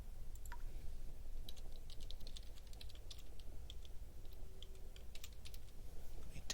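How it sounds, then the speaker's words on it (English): Rapid, irregular clicking of computer keyboard keys being typed on, fairly close and steady throughout, over a low background hum with no talking. "Let me type correctly."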